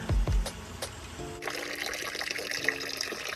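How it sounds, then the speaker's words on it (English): Water runs continuously from a leaking temperature and pressure relief valve on a gas hot water heater, draining through a tube; a steady, soft trickling hiss follows a few handling knocks at the start. "You might be able to hear that the water is running non-stop."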